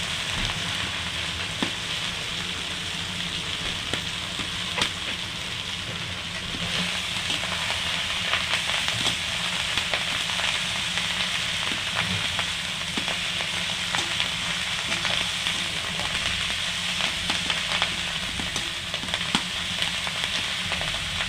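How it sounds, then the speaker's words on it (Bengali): Garlic cloves frying in hot oil for a Bengali khuder bhat, a dense continuous sizzle and crackle with scattered pops, steady and close throughout with no talk. "তেল গরম হয়ে গেছে, আমি এই রসুন কটা দিয়ে দেবো।"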